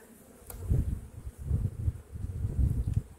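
Honeybee colony buzzing in an opened hive of a large, strong colony, a steady low hum that swells and fades in waves, close to the listener.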